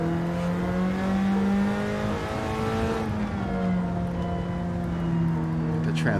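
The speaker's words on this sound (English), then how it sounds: "you gotta admit the old 180 SX sounds good" A Nissan 180SX in Gran Turismo 7 races with a strong engine drone and a high transmission whine, pitch shifting through gears as it accelerates and eases off, loud and steady throughout.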